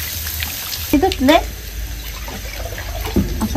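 Raw chicken is washed in a second change of water in a home kitchen, with short close splashes and sloshing bursts near the start and again at the end, while a voice is heard briefly.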